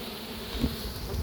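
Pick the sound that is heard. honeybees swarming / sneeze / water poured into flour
honeybees swarming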